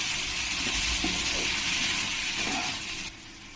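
Paneer pieces fry with garlic and ginger in a pan, giving a steady, close sizzling hiss that holds evenly, then drops slightly in level near the end.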